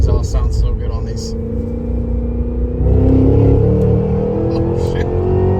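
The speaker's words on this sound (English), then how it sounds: "Exhaust sounds so good on these." A deep, throaty cammed V8 exhaust on a 2023 Cadillac Escalade V rumbles and revs up, the engine note rising and swelling, with people talking over it inside the vehicle.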